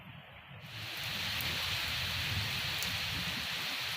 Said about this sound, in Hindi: आंधी, तूफान और बारिश का मंजर हर तरफ दिखाई दे रहा है